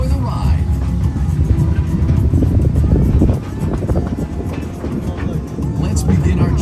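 A Pineapple Express tour train rolls through the Dole Plantation at Wahiawa on Oahu, with a continuous loud rumble and clatter of the ride close by.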